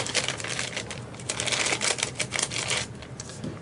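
Bags from a ZTE Fury phone box being unwrapped: a run of crackly plastic crinkling and rustling, close and busy, with brief pauses between bursts.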